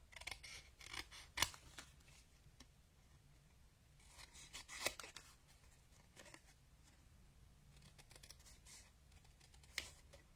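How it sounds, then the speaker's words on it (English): Scissors snip around a paper card piece in a card-making session, quiet, close crisp cuts and rustles in irregular bursts with a few sharper snips standing out. "And then let's cut this out. I'm just going to trim around this."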